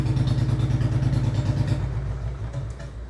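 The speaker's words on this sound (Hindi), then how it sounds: "मुझे आई है बाइक की आवाज़" A motorcycle idles just outside a house, its engine putting out a low, throbbing chug that is loud at first and then slowly settles and fades.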